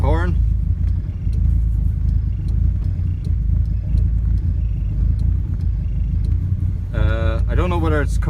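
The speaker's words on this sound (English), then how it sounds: "so I have the car running." A Volkswagen Corrado's low, steady engine idle rumbling throughout, with a car horn-like tonal burst near the end.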